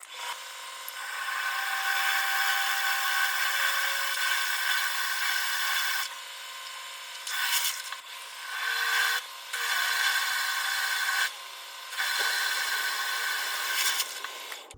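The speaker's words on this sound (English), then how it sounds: "Okay, let's saw." Long rasping strokes of a saw cutting metal, in bursts each running a few seconds with brief pauses between, close and fairly loud, no voices.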